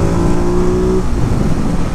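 A 2022 Ducati Monster Plus with its Testastretta engine revs hard and steady for about a second, then drops into a rougher, lower rumble as it pulls under riding noise.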